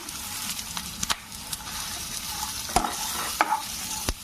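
Dry red chillies dropped into hot oil in a village-style kitchen give a continuous close sizzle, broken by several sharp crackles and spits as they fry, with no talking.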